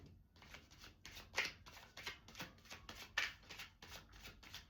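A deck of playing cards is riffled and shuffled in repeated quick bursts, crisp flutters with a steady rhythm, close but quiet, with no voices.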